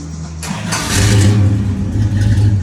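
A 1967 Pontiac GTO V8 cranks and fires, then settles into a loud, close, throaty idle with a couple of rumbling revs.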